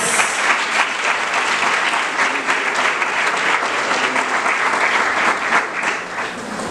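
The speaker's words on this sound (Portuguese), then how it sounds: "Aplauda o Senhor mais uma vez" A church congregation at an evangelical service gives a long, dense round of applause that stays loud and steady throughout, easing slightly only at the very end.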